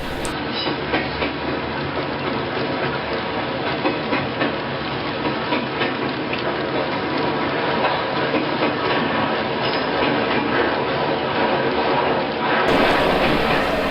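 A coal train rolls past WM Tower and a salvage yard, picking up speed, with a steady loud rumble of wheels and rhythmic clickety-clack from the railcars filling the whole stretch.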